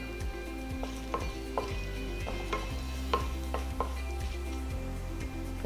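Whole spices (cinnamon, cloves, bay leaf and cumin) frying in oil in a pan, giving a steady low sizzle broken by sharp clinks and scraping stirs of a utensil against the pot.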